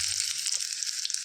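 Garlic sizzling in two tablespoons of hot oil in a small pan on the stove while tempering for amla rasam, a steady close crackling hiss throughout.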